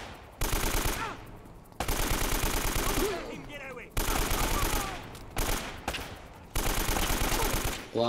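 Machine gun blind fire in the video game Uncharted: The Nathan Drake Collection, long sustained bursts of rapid automatic shots with brief pauses between volleys, loud and dense.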